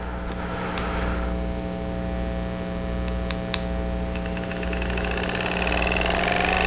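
A Hypervolt GO massage gun runs continuously with a steady, buzzing hum and faint rattling from its attachment head, close and moderately loud, with a few brief clicks.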